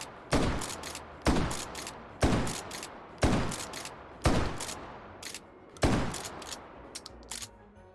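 A pump-action shotgun fires six loud, booming shots in a VR shooting game (H3VR), spaced about a second apart, each blast trailing off in a short decay.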